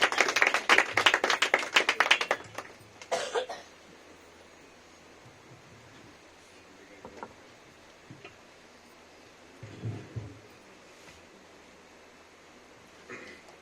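Loud clapping during a church service, a dense burst of many hands for the first two seconds and another short burst near three seconds, then quiet room tone with faint scattered sounds.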